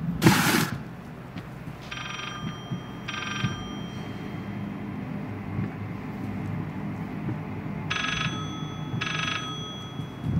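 A telephone rings in the horror game Layers of Fear, two pairs of short bell bursts spaced apart over a dark low ambient drone, after a sharp noisy thump at the start.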